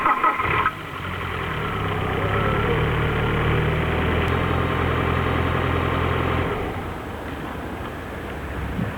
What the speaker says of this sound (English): I will test start the engine.